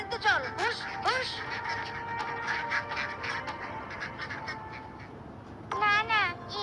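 Domestic ducks kept on a village pond quack in several short, nasal bursts near the start and again near the end, close by, with a person's voice faintly in the background.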